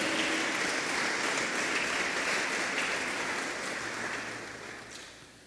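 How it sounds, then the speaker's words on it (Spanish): A church congregation claps in praise during a sermon, a dense, even wash of applause at moderate level that slowly fades toward the end, with no voices over it. "Fuerte las palmas para el Todopoderoso, aleluya."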